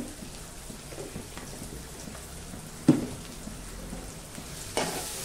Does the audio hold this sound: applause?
no